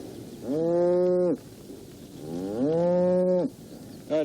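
Two long, loud moos from dairy cows on a small farm, close by and separated by a short pause. A brief third call starts just at the end.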